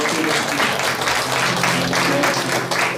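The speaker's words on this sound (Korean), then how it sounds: "우리 하나님께 영광의 박수 드리겠습니다." A church congregation at a Friday worship service claps steadily and densely for a few seconds, a close, sustained wash of many hands.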